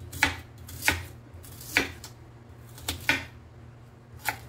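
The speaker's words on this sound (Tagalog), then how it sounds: "So, ito na yung aking sibuyas. So, sa sibuyas naman guys, kahit anong slice lang yan pwede na." An onion is sliced with a knife on a board, giving about six sharp, separate chopping knocks at uneven intervals over a quiet kitchen background.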